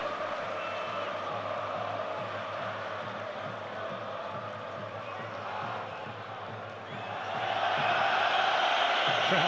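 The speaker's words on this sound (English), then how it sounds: "Crowd getting on James's back" A football stadium crowd jeers England goalkeeper David James during a Croatia v England match: a steady, dense roar from a large distant crowd that swells louder toward the end.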